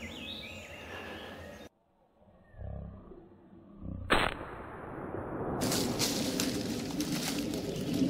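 A single sharp, loud gunshot cracks out midway through a Pennsylvania turkey hunt after a near-silent pause. It is followed by a sustained noisy outdoor wash.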